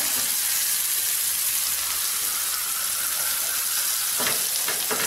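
Raw banana slices fry in a little oil in a nonstick pan over low flame, giving a steady, close, even sizzle with a few brief scraping stirs near the end.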